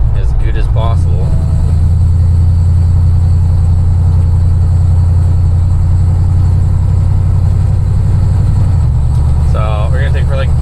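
Dodge Dakota pickup truck on a test drive, a loud steady engine drone and road rumble heard from inside the cab throughout, with a brief voice near the start and the end.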